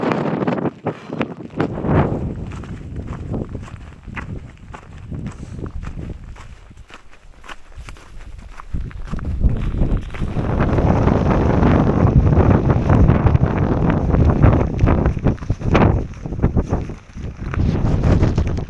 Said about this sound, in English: the wind can't make up what it's doing